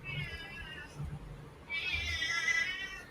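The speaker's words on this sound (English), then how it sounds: "I'm really sorry if you hear my cat saying anything." A pet cat meows twice indoors, a short first call followed by a longer drawn-out one, fairly faint and off-mic against quiet room noise.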